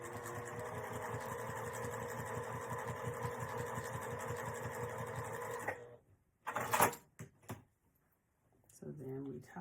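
A sewing machine top stitching a fabric coin pouch runs with a steady, rapid mechanical chatter for several seconds, then stops, followed by a few close handling clicks and rustles and a brief restart.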